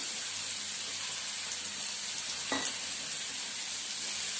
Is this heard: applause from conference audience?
no